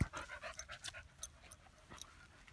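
A dog pants close by in quick, rhythmic breaths, fairly soft and with no other sounds around it.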